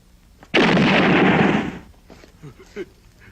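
A single loud gunshot cracks out and roars for about a second, followed by faint scattered knocks and rustles.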